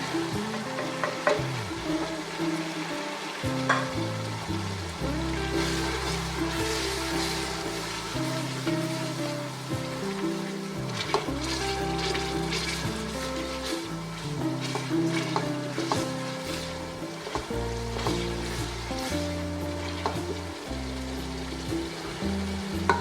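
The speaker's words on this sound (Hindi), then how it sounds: "ये तकरीबन हमारा मसाला भुन गया है" Whole spices sizzle and fry in hot oil in a large pot for a Savour Foods style pulao, with a steady loud crackle broken by repeated stirring scrapes throughout, no voices.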